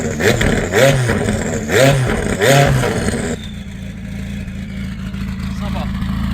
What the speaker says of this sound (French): j'aimerais écouter cette belle mélodie du V8